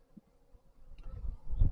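Honeybees disturbed at an opened long hive give a low, rising buzzing hum that swells from faint to fairly loud over under two seconds, close to the listener.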